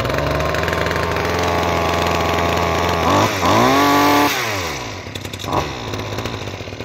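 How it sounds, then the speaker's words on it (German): An Einhell hedge trimmer's small petrol engine catches and runs with a steady buzzing drone, briefly revving higher before settling back to a lower idle, loud and close with no talking. "Den Hebel wieder nach vorne machen und jetzt sollten sie eigentlich starten."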